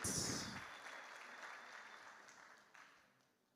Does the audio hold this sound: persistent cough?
no